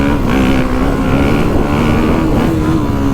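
A 2022 Kawasaki KX450SR motocross bike's engine held under steady throttle, a loud, close, continuous droning roar with slight rises, no talking.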